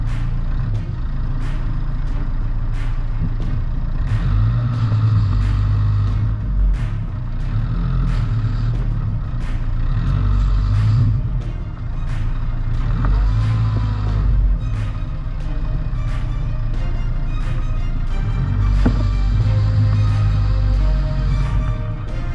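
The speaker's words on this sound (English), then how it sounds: "Here the car moves back in 4x2 to search for soil traction." A car on General Tire Grabber AT3 all-terrain tires reverses in two-wheel drive on an incline, its engine droning and revving in repeated surges as it struggles for traction, loud and close, with no talking.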